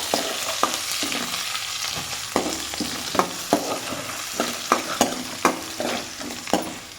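Onion, green chillies and curry leaves fry in oil for vermicelli upma, a continuous close sizzle broken by repeated sharp spatula clicks against the pan, with no talk.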